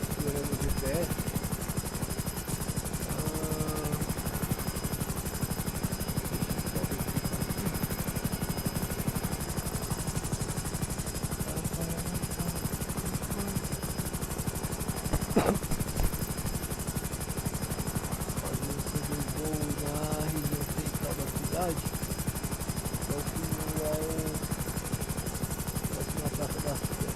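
A police helicopter lifts off in a GTA V FiveM roleplay game, its steady rotor and engine drone filling the scene at an even level while radio voices talk over it and a sharp bang sounds midway.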